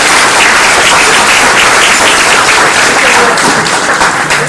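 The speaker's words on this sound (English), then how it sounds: "Let's give a big round of applause." A large audience at a Houston benefit screening breaks into loud, sustained applause, dense clapping filling the space evenly with no pauses.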